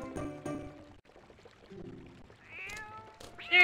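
A cat in the Twilight Princess video game meows a couple of times amid game sounds and background music, with a sharp rising call at the very end.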